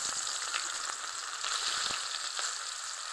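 Chopped onion fries in hot oil in a wok, already used to fry grass carp, for a spicy fish curry. A steady, close sizzle with faint crackles and stirring scrapes continues throughout, and no one speaks.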